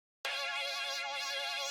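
A single sustained brassy synth note from a preset originally modelled on a trombone or trumpet, starting abruptly after a short silence and holding steady with a slight wavering buzz, alone and fairly close.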